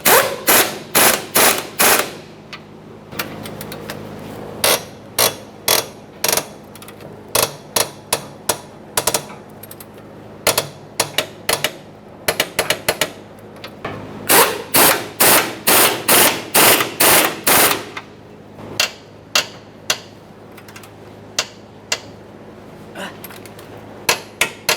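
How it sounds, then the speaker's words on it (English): A wrench snugs and torques the lower forward control arm bolts on the left rear of a 1992-1996 Toyota Camry, sounding as rapid bursts of loud metallic ratcheting clicks separated by short pauses, with no one talking. "Now we can start torquing our control arm bolts"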